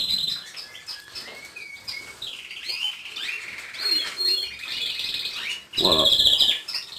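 Goldfinches and canaries chirp and trill continuously in an aviary, with bright overlapping calls at close to moderate range and a louder burst of song near the end.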